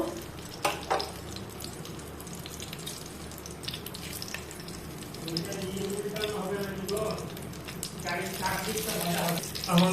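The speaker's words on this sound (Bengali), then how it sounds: "দেখো ভাজতে দিয়েছি, পটলগুলো এপাশ ওপাশ করে সব ভেজে নিতে হবে" Stuffed pointed gourds fry in mustard oil in a wok, giving a continuous sizzle with clinks and scrapes as they are turned, while a voice is heard at times over the cooking.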